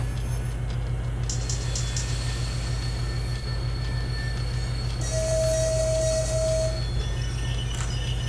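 A TEP60 diesel locomotive in the Trainz 22 simulator pulls away, its steady low engine drone and rolling rail noise continuous and close, with a brief high wheel squeal partway through.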